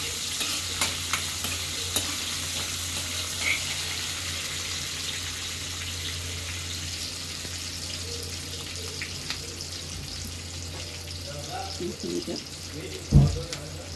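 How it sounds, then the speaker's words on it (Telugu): Cumin and mustard seeds sizzle in a hot pan with a steady background hiss while being stirred, with occasional soft scrapes and a louder clunk near the end. "జీలకర్ర, ఆవాలు ఇంకా కలిపేసుకోండి."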